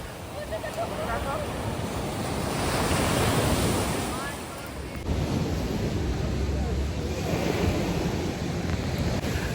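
Ocean waves and wind at Butterfly Beach, Goa: a loud, continuous roar of surf that swells and eases, with heavy wind buffeting the microphone.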